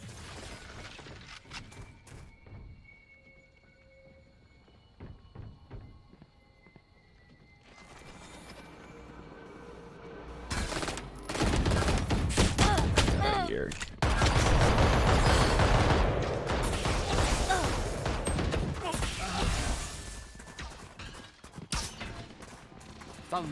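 Gunfire in VALORANT, with sparse shots early, then a sustained, loud stretch of rapid firing and clattering impacts through the middle and later part, mixed with game mechanisms and a little speech.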